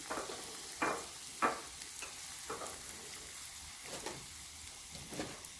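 Chopped tomatoes drop into a pan and sizzle quietly, the soft frying hiss punctuated by several short scraping bursts of stirring at an irregular pace.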